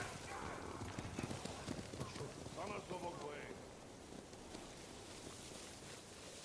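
Faint horse hoofbeats clip-clop in an irregular rhythm under a soft, steady hiss of rain, fading out partway through, in the video game Ghost of Tsushima.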